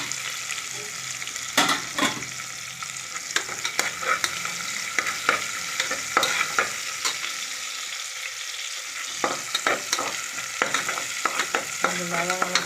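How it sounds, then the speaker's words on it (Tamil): Onion and garlic sauté in a pan for a Tamil home-style dish, with a steady low sizzle broken by repeated sharp spatula scrapes and clacks against the pan, close and fairly loud, no voices. "இப்போது வெங்காயம், பூண்டு போட்டிருக்கேன். ஒரு 2 நிமிஷம் நல்லா வதக்கி எடுத்துக்கலாம்."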